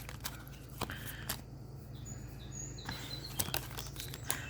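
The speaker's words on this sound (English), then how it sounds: "I'm really curious if you could hear these birds on camera. They are very loud." Birds chirp loudly outdoors in short high chirps and whistles scattered over a steady background hum, with occasional crinkling noises close by.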